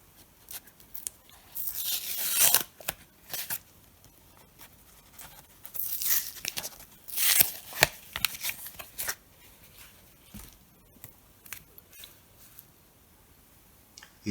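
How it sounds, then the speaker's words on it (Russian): Construction tape peeled off a parcel of banknotes, heard as several bursts of dry tearing and crackling at close range, with quieter rustling and handling noises in the pauses between. "Отделим все от скотча."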